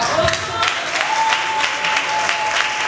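Applause from an audience at a national arts institute fills the whole stretch, dense and steady hand clapping close by, with a faint tone held underneath.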